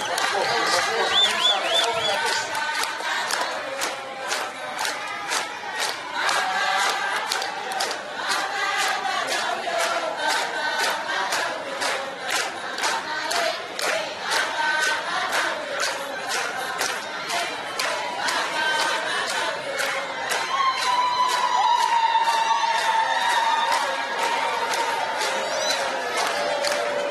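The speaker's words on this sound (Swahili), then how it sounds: "tukimpigia makofi na vigelegele vingi" A crowd at a company event claps and cheers as its board of directors is welcomed, with the applause mixed with shrill ululation. The dense, loud sound holds steady throughout and rises toward the end, with voices woven through it.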